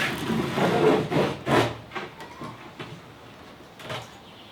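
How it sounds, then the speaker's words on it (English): Partly cured fiberglass being trimmed off a boat hull, heard as a series of close rasping, scraping strokes of uneven length that fade to lighter scrapes, with no talking. "I can very easily trim the fiberglass off here"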